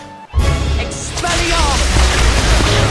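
A Stupefy spell is cast in the Harry Potter and the Half-Blood Prince video game, a sudden loud magical blast after a brief hush that then rolls on as a sustained crackling rumble.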